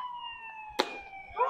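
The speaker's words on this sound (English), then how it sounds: "Some sirens in the background." Emergency sirens wail in the background at an American Legion baseball game, a steady falling tone with harmonics, interrupted by a sharp knock and a short rising sweep near the end.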